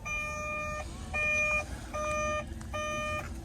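Warning beeps from the cab of a stump buster machine, four evenly spaced electronic tones, each lasting most of a second, over a low engine rumble.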